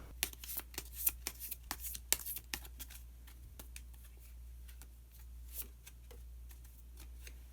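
Tarot cards are shuffled by hand, a run of crisp riffling snaps and taps up close, then softer scattered flicks as a card is drawn, with no talk.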